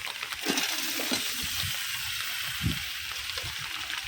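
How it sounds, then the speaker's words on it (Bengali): Flat beans are stirred into fish frying in spice masala in a pan, a close sizzle with soft scraping stirs and a few louder clunks. "তো আমি সিমগুলা দিয়ে এখন এই যে মশলার সাথে মিশিয়ে নেব"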